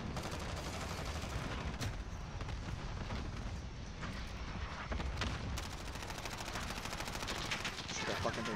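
Dense video-game gunfire in a Shoot House match, rapid automatic bursts and blasts packed together without pause, loud and continuous with brief voices underneath.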